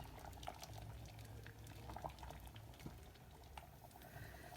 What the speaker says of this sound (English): I'm going to let this simmer away until most of that liquid has disappeared